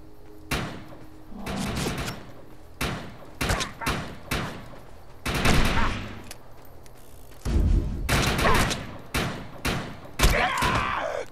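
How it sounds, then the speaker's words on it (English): Pistol fire rings out in the video game Defiance 2050, with loud close shots in irregular bursts. Some shots come in rapid clusters and others stand alone, separated by short gaps and faint background noise. "That's a shitty pistol."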